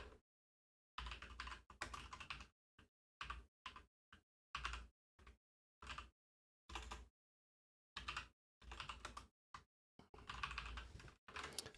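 Typing on a computer keyboard in short bursts of rapid, close key clicks separated by silent pauses, quiet and with no talk.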